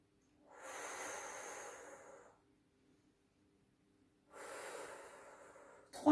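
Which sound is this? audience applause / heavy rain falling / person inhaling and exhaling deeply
person inhaling and exhaling deeply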